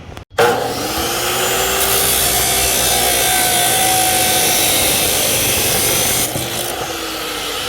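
Metal angle stock for a second radiator mount on a Mustang time attack car being cut with a power tool, a loud, steady grinding hiss that runs almost unbroken for several seconds before easing off.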